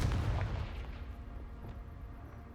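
Confringo blasting spell cast in Hogwarts Legacy, a short burst at the start with a booming, fiery crack that quickly fades into a low rumble, fairly loud and alone.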